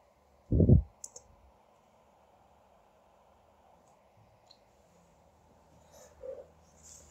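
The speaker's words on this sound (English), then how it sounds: "Let's click the reboot button and log in into our newly created VM." One quiet computer mouse click sounds in a near-silent room, followed by faint scattered ticks and low background hum.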